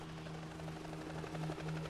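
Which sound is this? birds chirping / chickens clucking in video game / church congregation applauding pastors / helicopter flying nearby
helicopter flying nearby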